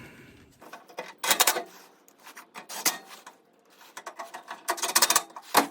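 Small nut-insert fasteners on a Toyota Tundra bumper cover are turned by hand with a ratchet, giving quiet bursts of rapid clicking separated by pauses, close and alone.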